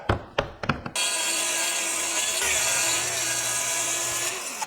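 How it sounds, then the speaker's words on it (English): Track saw ripping a sheet of 1/2 inch plywood in half, a few sharp knocks and clicks, then a loud, steady high-pitched whine of the blade cutting continuously for nearly four seconds before winding down. "I'll get started on that with ripping this in half with my track saw"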